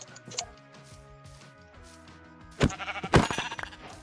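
A pink sheep bleats in Minecraft, with two loud close bleats near the end over quieter game sounds and faint earlier bleating.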